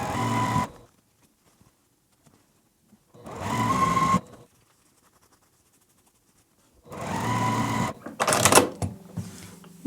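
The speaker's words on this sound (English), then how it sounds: "I'm just going to go ahead and chain piece these, meaning I'm not cutting my thread in between, so I'm just sewing them all at once." A sewing machine chain-piecing quilt fabric runs in three separate bursts of steady stitching, each about a second long, with quiet pauses between and some handling noise after the last run.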